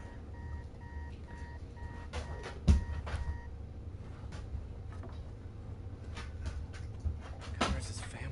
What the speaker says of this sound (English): Someone missed their alarm.